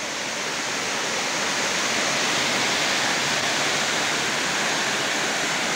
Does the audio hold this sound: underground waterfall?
yes